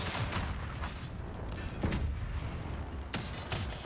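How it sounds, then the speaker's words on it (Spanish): Shotgun blasts in the first-person shooter Modern Warfare, several sharp booming shots spread across a dense, loud mix of background gunfire and battle noise. "Estoy loquísimo, lo peto con la escopeta."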